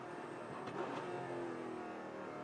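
Onboard V8 ute race car engine at a Perth race meeting, a loud continuous engine roar heard from the cockpit with a brief swell as it revs.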